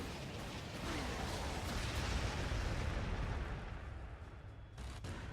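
Artillery fire in the Warhammer 40,000: Sanctus Reach video game, a dense, continuous rumble of booming blasts that fades toward the end, with a final sharp crack.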